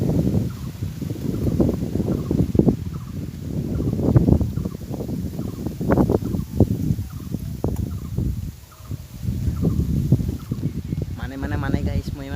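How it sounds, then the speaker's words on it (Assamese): Strong, cold gusty wind blows in uneven low roaring bursts that buffet close by, rising and falling throughout, with brief quieter gaps between gusts. "মস্ত বতাহ দিছে"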